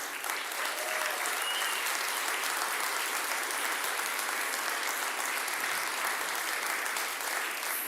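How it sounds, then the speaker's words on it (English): A large audience at a solar energy product launch claps steadily and continuously, a thick even wash of applause that holds at constant loudness without pause. "So also an applause for our entrepreneurs who joined"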